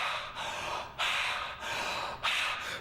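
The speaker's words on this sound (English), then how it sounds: "Big breathing." Deep, heavy breaths drawn in and pushed out in a slow, loud rhythm, about three long broadband cycles with sharp onsets, close and alone with no talking.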